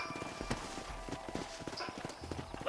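Horses' hooves clip-clop in an irregular walking rhythm in the video game Red Dead Redemption, fairly close and fairly quiet.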